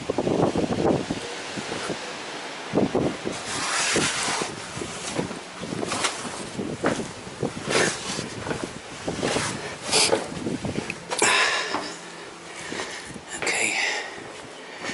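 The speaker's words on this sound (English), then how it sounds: "it's a very windy day" Strong gusting wind buffets the microphone at the Round Tower of Barnard Castle, a loud, continuous roar swelling and easing in surges throughout, with no clear talk over it.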